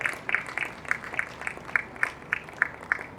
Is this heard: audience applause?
yes